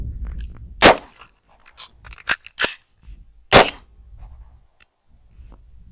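Rifle shots ring out during a combined pistol and rifle shooting drill: a few sharp, loud cracks spaced a second or more apart, with quieter clicks and handling noises in between and no talking.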